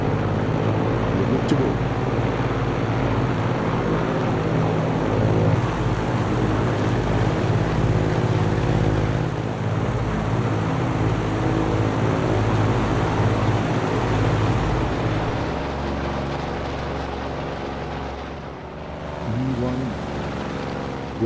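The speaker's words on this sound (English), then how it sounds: "magnetos on. Engine to start." Piston aircraft engine in Microsoft Flight Simulator 2024 starts and settles into a loud, steady droning run that holds for the whole stretch, with a person talking briefly over it.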